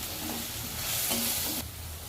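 Chilli powder, coriander powder and cumin powder frying in a pan for prawn biryani, a short, soft sizzle with a few light stirring scrapes.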